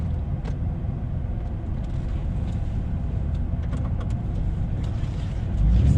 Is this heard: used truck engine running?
yes